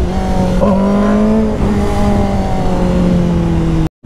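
A Zontes 350cc Chinese-brand motorcycle engine revs loudly and close, its pitch rising and dipping in a sustained growl before cutting out abruptly near the end.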